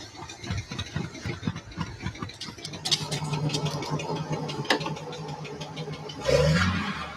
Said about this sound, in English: let's stop the car and let's get this thing running properly.